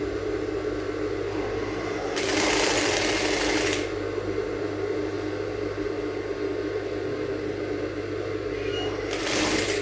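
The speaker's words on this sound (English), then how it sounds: "So I want you to see how I'm going to sew it down. Fabric, the lining, and the Emmy gum." Sewing machine stitching down fabric, lining and elastic for a Victorian corset blouse, a steady close whir with two louder bursts of fast stitching over a constant motor hum.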